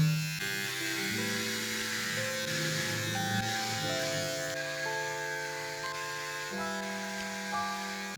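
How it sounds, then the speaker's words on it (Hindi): A steady electric beard trimmer buzz runs the whole time, its pitch shifting slightly as it works, with no talking. "तो ट्रिमिंग करते हैं उसके लिए सबसे पहले वी नीड अ ट्रिमर"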